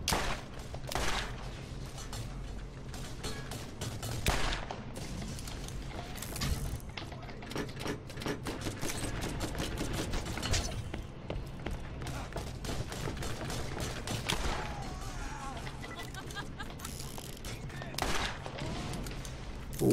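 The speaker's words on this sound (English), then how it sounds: "Who is shooting at me?" Gunfire in the shooter game Borderlands crackles as steady rapid shots under clattering mechanical noise through the whole stretch, with a voice speaking at moments over the shooting.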